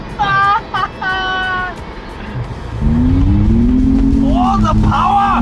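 A 2024 Ford Bronco engine revs up and holds a beefy, chunky drone, loud and close, after excited voices talk over the start.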